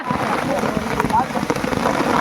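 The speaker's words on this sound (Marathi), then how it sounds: "पाऊस वरून राजाची सुरुवात झालेली आहे" Rain begins falling on an outdoor cricket ground at Mhapral Taribandar during a tournament match, a steady broadband patter of drops hitting surfaces, with faint background voices.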